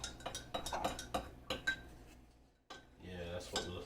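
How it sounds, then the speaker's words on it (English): Vegetables are stirred in a pot, making a quiet series of clinking and scraping utensil strikes in an irregular rhythm, with a short pause before more clatter and soft movement. "Give that a good stir."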